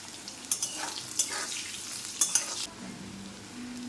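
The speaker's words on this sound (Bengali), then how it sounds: "বেগুনগুলো ভেজে নিয়েছি, এবার এগুলোকে তুলে নেব।" Sliced eggplant frying in hot oil with a pinch of salt in a home kitchen, a soft steady sizzle broken by a few sharp clicks of stirring before it quiets near the end.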